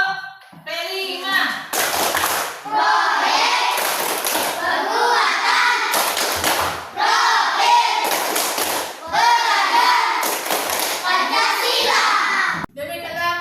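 Indonesian primary school class claps hands together in a patterned classroom clap, loud repeated bursts of sharp claps alternating with children chanting in unison.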